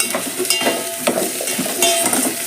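Grated radish added to a hot pot while cooking a radish pappu charu lentil soup, giving a steady close sizzle with soft scraping and stirring clinks throughout.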